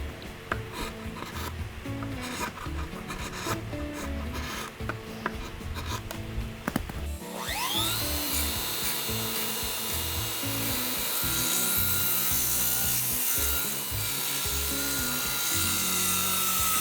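Steady, close rubbing and rasping of hand-finishing a hardwood counter for an izakaya-style kitchen, uneven strokes at first, then a continuous loud scraping with no voices.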